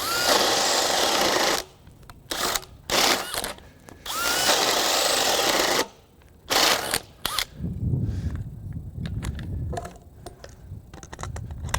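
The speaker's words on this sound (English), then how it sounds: "with this 1 inch spade bit, I feel like I have less power with the 5 amp hour" A DeWalt cordless drill driving a 1-inch spade bit through wood in the cold, on a PowerStack or XR 5Ah battery: loud, close bursts of whining drilling, stopping and restarting several times, ending in lower grinding and clatter.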